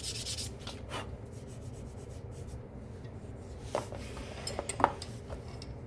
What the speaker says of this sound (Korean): 좀 부드러운 사포로 해서 면을 매끈하게 다듬어 주는 겁니다